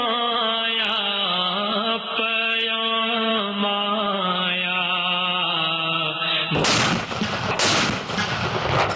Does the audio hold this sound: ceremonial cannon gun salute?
yes